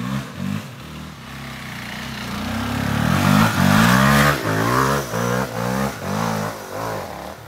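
A motorcycle engine revs and surges up and down during a small wheelie on a rough first ride, loud and close with repeated throttle swells.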